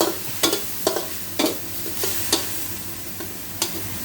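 Minced pork and chilies stir-fried for pad kra pao, a soft steady sizzle in the pan broken by repeated scraping strokes of a spatula at an irregular, unhurried pace, close by and with no talk.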